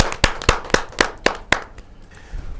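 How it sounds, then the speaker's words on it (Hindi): Clapping welcoming a poet at a Hindi kavi sammelan, a handful of sharp, evenly spaced claps close by, about six in a row at roughly two per second, then fading into quiet room noise. "जोरदार तालियों के साथ हम"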